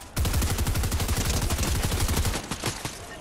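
Rapid gunfire from the video game Fortnite, a loud, dense burst of repeated shots that fires steadily, then breaks into a few scattered final shots near the end, with no talk.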